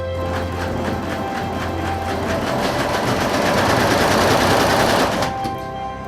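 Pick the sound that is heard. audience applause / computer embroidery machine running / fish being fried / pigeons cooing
computer embroidery machine running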